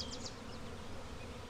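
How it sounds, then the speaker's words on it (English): Upset honeybees from a swarm just pulled down from a tree in July buzz in a continuous, faint hum, with a few individual bees droning past close by. "The bees are upset because I bumped them a little bit with the basket and then pulled it all down."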